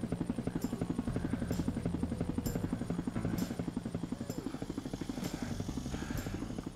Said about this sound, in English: Where are you going, helicopter?